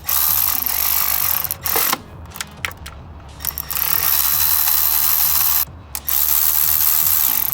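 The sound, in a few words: ratchet tightening bolts on VQ35DE engine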